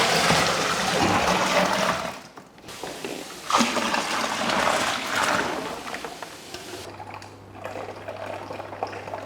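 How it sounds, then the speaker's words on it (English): Water runs into a home-brew beer fermenter for a Coopers lager kit, a loud splashing, gurgling pour that briefly breaks off twice and then softens toward the end, with no speech. "so now we'll fill up the fermenter up to 23 litre."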